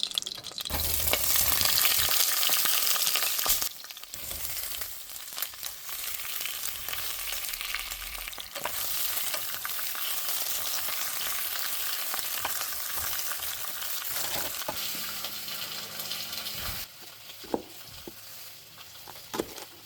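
Food fries in a little oil in a pan for a spicy Super Bowl dip, a loud, dense sizzle that runs steadily, with a few brief stirring knocks near the end.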